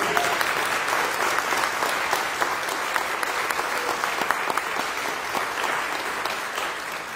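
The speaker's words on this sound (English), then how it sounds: "So maybe more applause for this." Church congregation applauding during a youth-led Easter Sunday service, sustained clapping from many people with individual sharp claps standing out, steady and moderately loud across the whole stretch.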